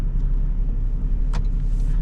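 A Toyota Aygo X 2026 GR Sport full hybrid with 116 HP drives through the city at night, giving a steady low cabin rumble of road and engine noise with a faint brief hiss partway through and no talking.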